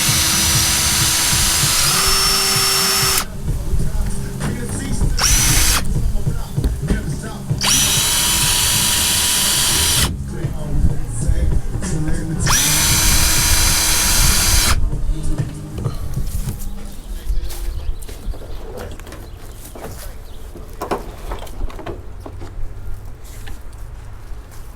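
A power drill bores out rivets on the roof of a 1987 Chevy Caprice LS Brougham, loud whining bursts alternating with short gaps, then softer clattering and handling noise afterward.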